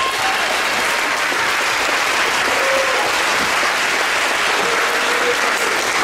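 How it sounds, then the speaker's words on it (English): Audience at a middle school winter band concert applauds continuously, a loud, even roar of clapping across six seconds with faint crowd voices beneath. "Clap for that."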